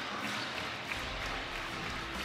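Crowd cheering and applauding at a top-ranked women's volleyball match between Nebraska and Ohio State at the Covelli Center, a steady, dense roar filling the arena without a break.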